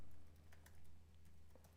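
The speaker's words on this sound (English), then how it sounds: "I'm literally typing it in now so I can have the PDF in front of me." Typing on a computer keyboard during a livestream bass guitar Q&A, a few soft, scattered keystroke clicks over low room hum, close but quiet, with no talking.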